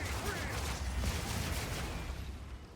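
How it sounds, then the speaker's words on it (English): A fiery explosion in Path of Exile 2 gives a dense, sustained rumbling roar with crackling bursts, loud and steady throughout the clip, which fades slightly at the end. "we could sprint into fire explosion that's been there for like a decade"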